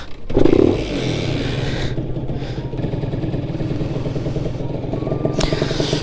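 A 1987 Honda NSR50 small motorcycle engine idles steadily with a low, even putter and some mechanical clatter, a brief rev near the start.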